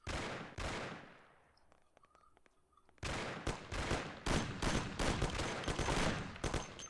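Rapid bursts of gunfire in the Mafia video game, a long stream of sharp shots, then a short lull with a faint ringing tone, then dense shooting again.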